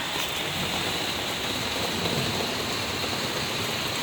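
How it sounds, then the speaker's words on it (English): Steady rain falling outdoors, a continuous even hiss of drops across the whole span with no pauses, fairly close and moderately loud, with no voices. "It's so rainy."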